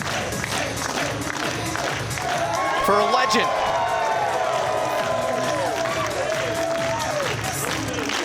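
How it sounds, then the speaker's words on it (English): A wrestling show crowd claps along in a dense, continuous wash of clapping and crowd noise throughout, while a voice speaks near the start and another voice sings or calls out over the middle. "the crowd's clapping along"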